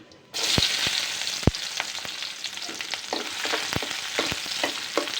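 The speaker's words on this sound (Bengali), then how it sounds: "একটু ভেজে তারপরে পেঁয়াজ, কাঁচামরিচ, রসুনগুলো দিয়ে দিব" Onion, green chilli and garlic fry in oil for a greens dish, a close steady sizzle that starts abruptly, punctuated by repeated sharp spatula taps and scrapes against the pan.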